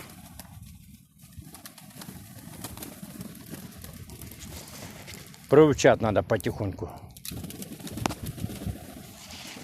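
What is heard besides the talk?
pigeons cooing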